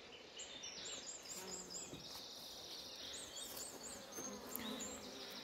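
Honey bees buzz continuously around an open hive as a queen is introduced, a dense, fairly quiet hum with passing higher-pitched whines from individual bees flying near.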